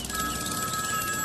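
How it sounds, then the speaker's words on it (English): A telephone rings with a sustained, buzzing electronic tone, loud and steady throughout with no pauses, alone with no voices. "the mind-shattering sound of the ringing phone"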